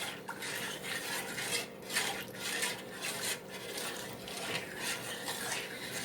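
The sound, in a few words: stirring melting white hot chocolate in a pot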